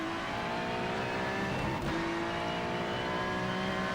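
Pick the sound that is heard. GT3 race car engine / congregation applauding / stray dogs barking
GT3 race car engine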